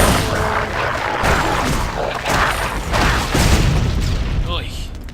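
Exploding dogs in Torchlight 2 set off heavy booming blasts and crashing impacts amid busy combat noise, loud and close, with someone talking over the fight.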